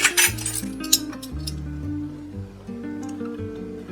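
Vintage silver-plated airline flatware, including a Reed and Barton piece and a W.M. Rogers & Son orange blossom pattern grapefruit spoon, clinks together in a few bright metallic taps with short ringing tails, close by.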